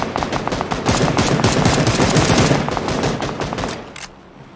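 Sustained loud automatic gunfire from the PUBG video game, a rapid continuous burst of shots lasting several seconds before cutting off.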